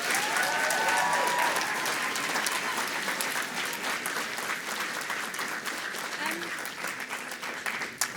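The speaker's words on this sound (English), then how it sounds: "they deserve a massive round of applause for yesterday." A theatre festival audience gives a dense round of applause on awards day, a continuous wash of many hands clapping that gradually thins and softens, with a few voices under it.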